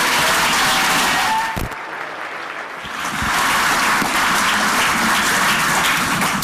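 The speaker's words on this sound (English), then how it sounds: "So please give me a round of applause for Dr. Roper and Lieutenant General Thompson." An audience claps at the Space Pitch Day closing ceremony in 2019, a dense, loud wash of applause from a partly filled room that dips briefly in the middle and then swells again.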